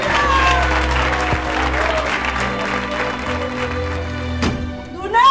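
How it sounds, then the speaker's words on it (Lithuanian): A crowd bursts into loud, sustained applause, a thick continuous roar of many hands clapping close by, with a low steady hum and some voices mixed beneath it. "Šitie plojimai skirti ir jums už tai, kad nepabijojote klausti visiems girdint."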